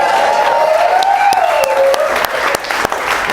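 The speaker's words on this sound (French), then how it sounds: "faites du bruit pour tous les gens qui vous ont fait des blagues ce soir." Loud audience applause and cheering at a comedy show, with a voice speaking over the clapping throughout.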